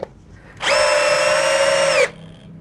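A Milwaukee M12 impact drill drives a screw at torque setting 14, a loud, steady motor whine with a bright tonal pitch holding for about a second and a half before the trigger releases and it stops abruptly.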